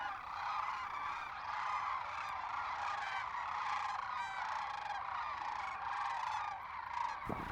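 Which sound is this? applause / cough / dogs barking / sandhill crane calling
sandhill crane calling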